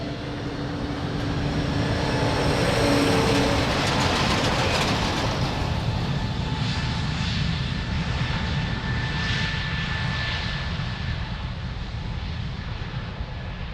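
An airplane departing from Lisbon Airport, a loud sustained jet engine roar that swells early and then slowly recedes into the distance, with no talking.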